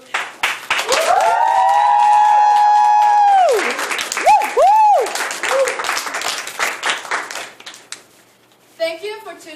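A short burst of applause for two guests on a mock talk-show set, mixed with loud sustained whooping and cheering voices, then scattered claps tapering off before speech resumes.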